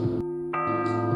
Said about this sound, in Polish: Na dzwonnicy obok kościoła wiszą trzy nieduże dzwony, poruszane ręcznie za pomocą sznurów.